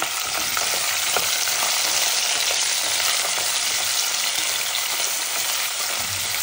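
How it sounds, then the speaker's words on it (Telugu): Potatoes fry in hot oil after being added to golden-brown onions in a curry, making a loud, continuous close-up sizzle with faint crackles and no pauses. "ఇలా గోల్డెన్ బ్రౌన్ కలర్ వచ్చిన తర్వాత ఉర్లగడ్డ వేసుకోవాలి."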